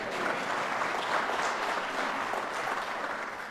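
A legislative audience applauds during a Kentucky governor's 2022 budget address, with dense, sustained clapping from many hands at a steady, fairly loud level throughout.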